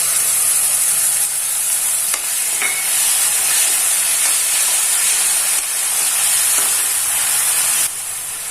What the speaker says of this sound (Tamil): இப்போ நம்ம அரைச்சி வச்சிருக்கோம் இல்லையா, இந்த தக்காளி பேஸ்ட் ஆட் பண்ணிடலாம்